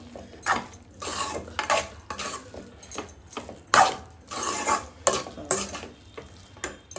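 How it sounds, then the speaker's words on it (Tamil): Egg being stirred into Maggi noodles in a pan: repeated bursts of spatula scraping and clattering against the pan over a low sizzle, close and uneven in rhythm, with no voices. "இந்த முட்டையை போட்டு நல்லா கலரணும், மிக்ஸ் ஆகணும். மேகியும் முட்டையும் ஒன்றா மிக்ஸ் ஆகணும்."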